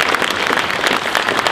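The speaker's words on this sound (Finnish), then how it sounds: "Raikuvat aplodit pronssisten asemärkkiä saa" A crowd applauding at a sports gala: dense, steady clapping from many hands, loud and close throughout the short burst, with no voices over it.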